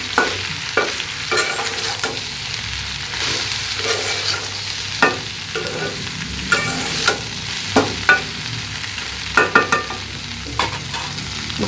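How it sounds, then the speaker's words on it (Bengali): Pabda fish, dried fish and taro stems being stirred in a frying pan, with a steady sizzle under repeated scraping strokes of a spoon that grow louder and more frequent toward the end. "তারপর এখন ভালো করে নাড়াচাড়া করে দিন"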